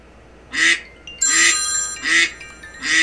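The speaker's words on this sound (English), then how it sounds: "How'd the duck get out?" A duck quacks four times in loud, nasal, evenly spaced calls, close and clear, with a faint bell-like ring between them in the video game Destiny 2.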